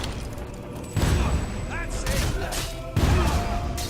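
Gunfire in Fable 3 during a raid on Bowerstone Castle: two loud, heavy booming shots about two seconds apart, with clanking game effects and someone speaking between them.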